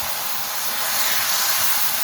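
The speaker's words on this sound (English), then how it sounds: "Look at that sizzling." Grasshoppers sizzling in a pan over a village cooking fire, a close, steady, bright hiss that swells slightly and holds for the whole two seconds.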